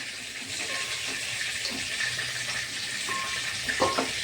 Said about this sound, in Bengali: এখন আমি এগুলোকে এই যে শিরার মধ্যে দিয়ে দিচ্ছি। শিরাটা আগেই করে রেখেছিলাম, এখন একটু গ্যাসে বসিয়ে দিয়ে তারপরে দিয়ে দিচ্ছি।